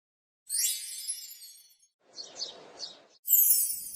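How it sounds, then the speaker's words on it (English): Bright chirps and high trills of a small bird come in separated bursts, moderately loud and close, with no voices. "Bird."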